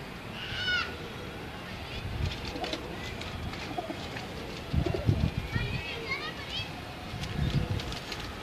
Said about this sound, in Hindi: ये जी नीले कमगर कबूतर हैं उस्ताद जब्बार चारा साहब के